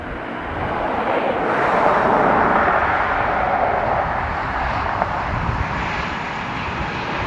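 An American Airlines jet passes at Dublin Airport as a loud, steady roar of engine noise swells and then slowly fades, with a broad rushing hiss over low rumble and no voices.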